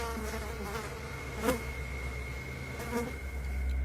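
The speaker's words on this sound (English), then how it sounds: "You can hear the flies buzzing around it." Flies buzzing around a lifeless extraterrestrial body in eerie Backrooms hallway footage, a continuous close drone over a low hum, swelling briefly twice as they pass near.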